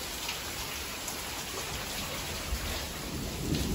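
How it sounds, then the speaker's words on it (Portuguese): Steady rain pours down with a dense hiss and low rumbles of thunder rolling under it, continuous and fairly close, with no talking. "Ai, chuvinha mais gostosa, né?"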